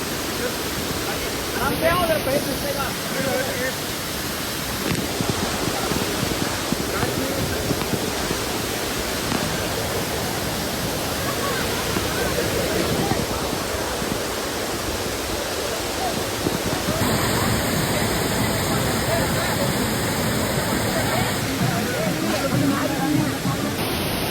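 Flowing water at Amboli waterfall pours in a constant heavy rush, near and loud for the whole stretch, with brief faint speech mixed into the roar.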